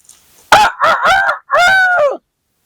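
A rooster crows loudly and close by in two drawn-out, harmonic calls, the first broken into short choppy bursts and the second long and sustained, with no other sound around them.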